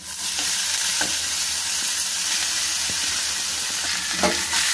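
Boiled, trimmed and cut cluster beans go into a hot tempering in a pan, a steady loud sizzle throughout with a few sharp spoon taps and scrapes as they are stirred.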